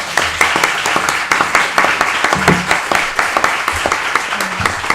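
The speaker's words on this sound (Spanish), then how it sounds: "Recibimos con un aplauso." An audience at the opening of an academic year at a university residence hall welcomes a speaker with steady, close, moderately loud applause, many hands clapping together with a few voices mixed in.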